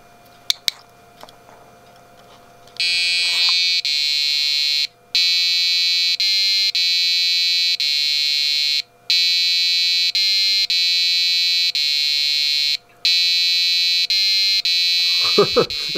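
An Arduino-driven buzzer plays the Silent Night melody as shrill, piercing electronic tones in long held notes with short gaps, preceded and followed by brief handling clicks.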